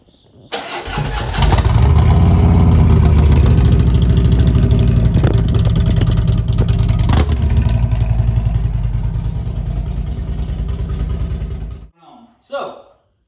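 A 2016 Harley-Davidson Street Glide Special V-twin starts up and runs with a loud, deep, lumpy rumble and a few revs for about eleven seconds before shutting off, with a voice briefly afterward.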